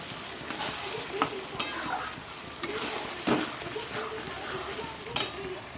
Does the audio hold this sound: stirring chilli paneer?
yes